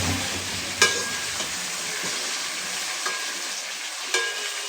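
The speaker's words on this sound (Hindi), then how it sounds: "इसको अच्छी तरह मिक्स करके" A pickle mixture cooks in a pan, a steady hiss of frying running throughout while a spoon strikes and scrapes the pan a few times with clear isolated clicks.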